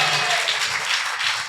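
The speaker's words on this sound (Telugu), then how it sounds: "చప్పట్లు కొట్ట" A church congregation in Narasaraopet claps together on the preacher's request, a dense, loud wash of hand claps filling the hall without pause.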